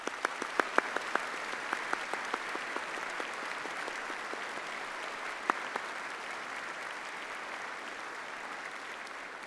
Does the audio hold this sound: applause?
yes